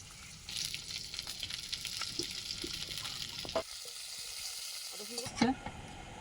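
Fish frying in a pan in a home kitchen, a faint steady sizzle that drops out briefly midway, followed by a few clinks and scrapes as the fish is lifted out.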